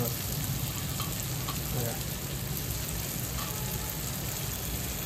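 Chili powder fries in a pan with a dense, continuous sizzle and crackle, close and even throughout. A voice speaks briefly over it.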